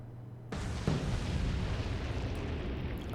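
Torpedoes fired and exploding in the naval video game Atlantic Fleet: a sudden loud blast opens a sustained, rumbling roar of explosions at close range, with no talking.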